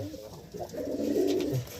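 A Madras pigeon gives a low, soft coo that swells across a single short phrase. The pigeon sounds close but faint, and the coo is quiet against the background.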